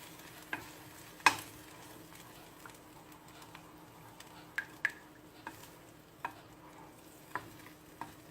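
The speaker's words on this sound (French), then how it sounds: "On remue pour pas que ça attache, pour pas que ça colle." Egg cooks in a pan while a utensil stirs it, producing faint, quiet sizzling punctuated by light, intermittent taps and scrapes against the pan.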